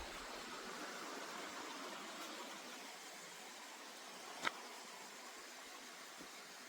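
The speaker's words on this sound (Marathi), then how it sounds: "पाण्याचा आवाज आहे." A strong stream rushes at night near Harihar Fort, a steady wide hiss of flowing water heard from a distance, broken by one sharp click midway.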